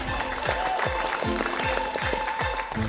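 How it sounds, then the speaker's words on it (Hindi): A television studio audience claps for a contestant on the Hindi reality game show The Society, with steady, dense applause over a rhythmic drum beat. "एक बार जोरदार तालियां नाविद की।"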